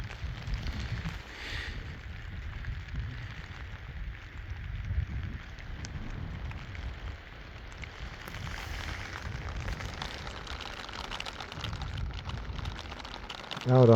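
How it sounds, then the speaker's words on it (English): Rain falls on Henderson Lake in a steady, soft hiss with low gusty rumbles of wind, continuous and fairly faint throughout. "The rain is here."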